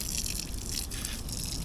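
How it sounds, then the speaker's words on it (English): Water from an outdoor tap at a beach in Okinawa gushes steadily to rinse sand off someone's feet, a continuous close splashing wash with no talking. "let's walk up here, wash off my feet."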